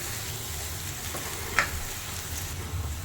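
Brinjal masala frying in oil for an Andhra-style ennegayi curry, a steady close sizzle with faint stirring and one brief utensil tick midway, no voices.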